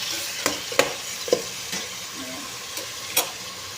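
Chicken pieces sauté in a hot pan for tinolang manok, a soft steady sizzle broken by several sharp clicks and scrapes of stirring.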